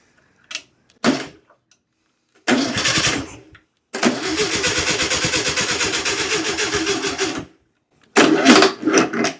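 A VW Beetle engine starting after sitting for over 20 years: a few short cranking bursts, then a loud sustained run of several seconds that cuts off, followed by another rough burst.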